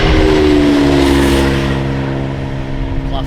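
A Class 172 diesel train passes close by with a loud, steady engine drone and sustained tonal hum that eases slightly as it moves on.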